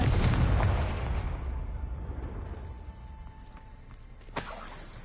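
A Confringo fire spell in Hogwarts Legacy bursts in a loud, deep blast that rolls off over several seconds, followed by a faint ringing tone and a smaller sharp crack near the end.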